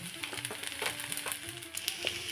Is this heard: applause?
no